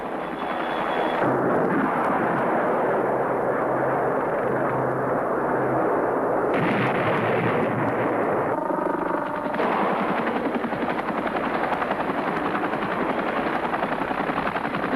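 A Cobra attack helicopter fires a TOW missile: steady, loud rotor and engine roar fills the whole stretch, with a sharper launch burst and shifting whine partway through.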